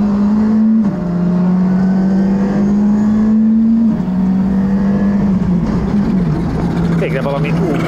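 A race car, either a Volkswagen Polo R5 or a Porsche 911 Turbo S, is driven hard around a track and heard from inside the cabin. The loud, sustained engine drone steps in pitch with each gear change while people talk over it.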